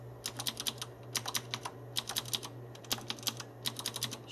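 Fast, irregular keystrokes on a Cooler Master Storm Mech mechanical keyboard with an aluminium housing and 50 g actuation switches, clicking close up in uneven bursts over a steady low hum, with no voices.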